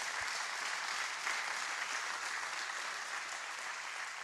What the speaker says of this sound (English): a big round of applause, if we can